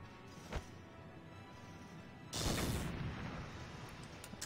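A grenade goes off in the Valkyria Chronicles strategy game: a brief thump first, then a loud broad burst with a long fading rumble over quiet background, no speech.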